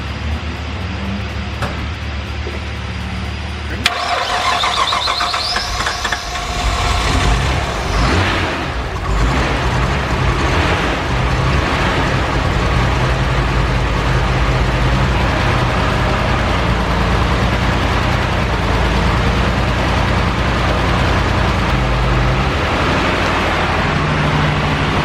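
A Nissan Skyline R33 with an RB25DET engine that has not run in years cranks, then catches and idles roughly on five cylinders with a fouled plug, a loud, uneven mechanical drone that holds close and continuous.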